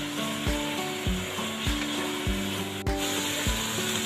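Minced meat (qeema) fries in a pan with a steady sizzle, broken by regular scraping stir strokes about every half second, over a faint tonal hum.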